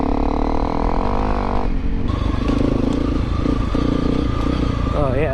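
A Honda CRF250L Rally motorcycle rides offroad, its engine droning steadily and close throughout, with clatter and scraping from rough terrain and a brief shift in engine tone partway.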